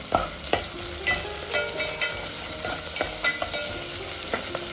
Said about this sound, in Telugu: కొంచెం అల్లం వెల్లుల్లి పేస్ట్ పచ్చివాసన పోయేంత వరకు వేయించుకున్న తర్వాత పచ్చిమిర్చి వేసేయండి